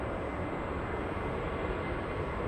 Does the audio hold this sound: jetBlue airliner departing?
yes